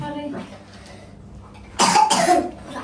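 A child coughs twice in quick, harsh bursts close to the microphone after a moment of quiet speech.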